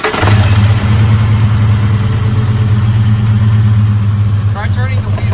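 A Ford F-150 engine starts and settles into a loud, steady low rumble close by, running continuously with faint voices in the background.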